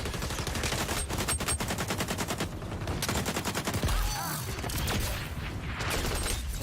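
Rapid automatic AK rifle fire in the XDefiant shooter game, several sustained bursts of sharp repeated shots, loud and close, with brief gaps between volleys.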